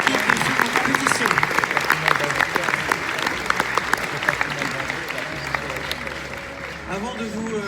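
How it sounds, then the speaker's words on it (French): Festival audience at the Gérardmer 2023 film festival applauding the competing film teams, a dense sustained round of clapping from a large crowd filling the hall, with murmured voices underneath throughout. "Pour de nouveau applaudir les équipes du film en compétition"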